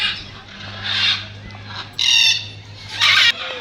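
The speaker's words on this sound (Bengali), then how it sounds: "এই দেখো সামনে ওখানে একটা বসে আছে ম্যাকাও।" A scarlet macaw in a zoo aviary at Harinalaya Eco Park, New Town, Kolkata, gives two loud, harsh squawks close by, after fainter calls over a low background hum.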